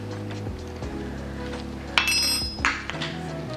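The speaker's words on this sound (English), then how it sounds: "So give it a nice stir." A spoon stirs Big Mac sauce with garlic powder in a bowl, giving a few faint scrapes and light clinks against its side over a low background hum.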